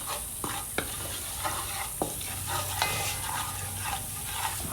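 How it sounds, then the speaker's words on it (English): Jeera fries in oil in a pot, a constant close sizzle broken by several sharp spoon knocks and scraping stirs against the pot, with no talking. "Grab my sappy here, stir this up a little bit."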